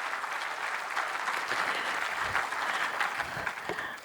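Sustained audience applause at a lecture event fills the whole stretch, dense and steady with no voices over it.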